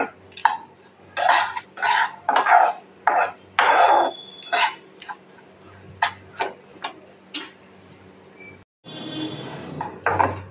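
Semolina being dry-roasted in a pan, giving repeated scraping and tapping strokes of a utensil against the pan in an irregular rhythm, close and moderately loud, followed by a steadier sizzling rustle.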